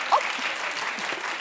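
A studio audience gives brief applause on a talk show, a short burst of clapping that fades under a voice.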